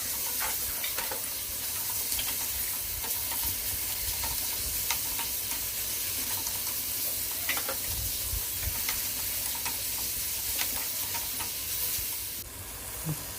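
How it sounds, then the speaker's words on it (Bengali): Chicken from a home-raised native rooster sizzles in a wok with onion and oil, a steady frying hiss broken by repeated scraping and clinking strokes of a stirring spoon, close and moderately quiet, with no talking. "মাংস দিয়ে নাড়ানাড়ি চলছে।"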